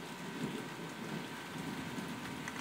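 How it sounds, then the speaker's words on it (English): Rain begins falling on a stormy night, a faint soft patter spread evenly across a quiet background with no voices. "The rain is coming."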